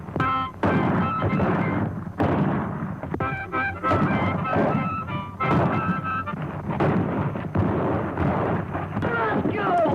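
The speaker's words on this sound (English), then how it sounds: "who needs narration when you have gunfire?" Repeated sharp bangs and bursts of gunfire crackle through a busy, chaotic mix with shouting voices and honking tones throughout.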